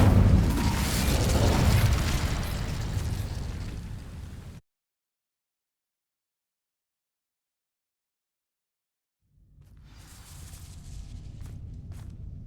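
An Incendio fire spell igniting dry vines in the Hogwarts Legacy video game, with a loud whooshing burst and roaring flame that cuts to silence, then returns with fainter crackling, thuds and footsteps.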